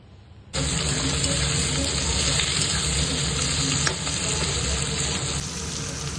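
Chili chicken frying in a pan gives a loud, steady, close sizzle that starts abruptly after half a second and hisses on evenly to the end, with no talking.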